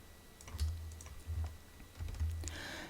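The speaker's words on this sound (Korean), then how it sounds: "그래서 Alt키 누르고 이렇게 다섯 개를 복제를 해주도록 하겠습니다" Computer keyboard keys pressed, including Alt, while duplicating shapes in Illustrator CC 2019: a few soft, close clicks with dull low thumps, spaced irregularly with no talk.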